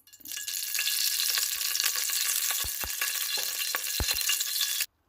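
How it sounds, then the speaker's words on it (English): Cumin seeds and star anise hit hot oil in a pressure cooker, a loud close sizzle that starts abruptly and holds steady for several seconds, with a few low knocks of spices landing, then cuts off sharply. "the first thing here I'm adding is the cumin seeds, the jeera, some star anise"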